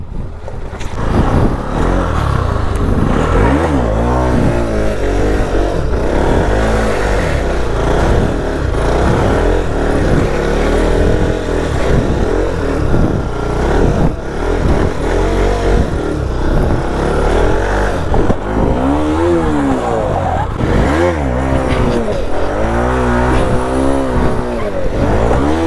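A stunt motorcycle revs hard and continuously while riding basic circles, its engine note rising and falling steadily at close range, with no talking.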